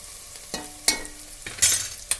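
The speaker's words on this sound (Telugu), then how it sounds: "ఇంకా కొంచెం వేపుకొని వేయండి, బాగా వేపుకోవాలి." Seasoning for a cabbage and dal curry fries until brown in a pan, giving a faint sizzle broken by a few separate stirring scrapes and clatters, close by.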